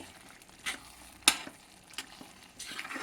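Dal khichdi with salt and chilli stirred in a pot, a few scraping spoon strokes and a sharp clink over a soft background sizzle, close and moderately loud.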